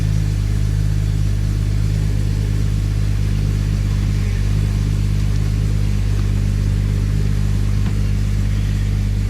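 A 1997 Jeep Grand Cherokee 2WD engine runs at a steady idle, loud and continuous, with a deep, even drone that holds unchanged throughout.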